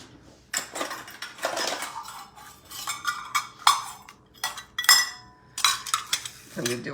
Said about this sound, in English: So I'm going to scoop that out.